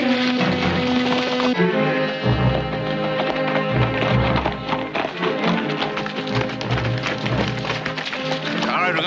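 Horses walk on a trail, hooves clip-clopping in an irregular rhythm beneath a loud musical score, with a brief voice near the start.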